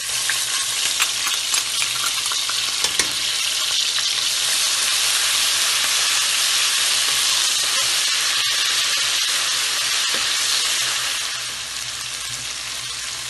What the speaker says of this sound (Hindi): तेल डालेंगे, लहसुन अदरक का पेस्ट और हरी मिर्च डालेंगे